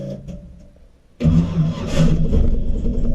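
Turbo 4.8 LS-swapped 1995 car engine cranks quietly, then catches at once and fires into a loud, rough running roar that holds steady to the end.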